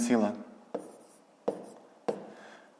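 Pen or pencil writing numbers by hand while working a 5th-grade column addition of decimals, with three sharp taps of the pen on paper spaced evenly after a brief spoken word at the start.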